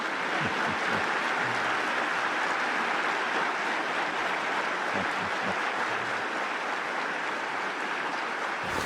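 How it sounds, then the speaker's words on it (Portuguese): An audience applauding, a continuous wash of many hands clapping at once, steady and moderately distant throughout with no clear voices. "O que eu acho curioso é a assistência depois a bater palmas"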